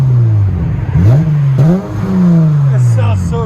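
A 2021 Dodge Challenger GT AWD fitted with a Flowmaster Flow FX exhaust revs in several short throttle blips, each rising and falling, deep and loud close by, with someone speaking briefly between revs.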